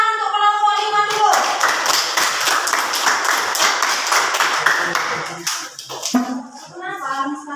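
Classroom applause for a student group, dense clapping from many hands for several seconds, with voices talking before and after.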